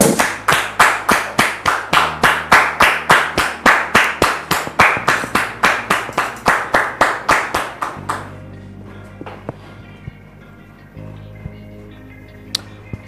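A studio audience welcomes a guest with loud applause, clapping in a strong unified rhythm for several seconds before it dies down to quiet room noise and a few stray taps.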